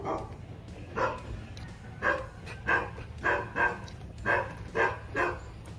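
A dog barks repeatedly at a distance, about eight evenly spaced woofs against a quiet background while turkey is being roasted.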